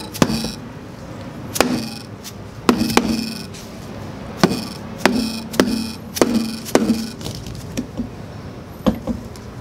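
A scooter's CVT cover, its bolts already removed, gets a series of sharp knocks to free it, about a dozen irregular taps spread across several seconds, close and fairly loud with no talking.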